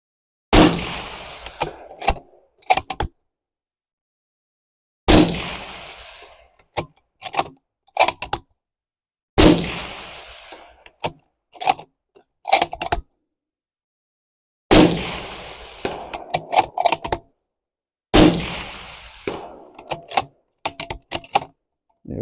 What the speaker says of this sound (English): I am just going to fire some rounds and let's see how it does.